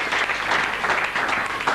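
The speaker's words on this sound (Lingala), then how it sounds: "Acclamez très fort." A church congregation at a prosperity seminar breaks into loud, sustained applause, dense and continuous throughout the short stretch with no voices over it.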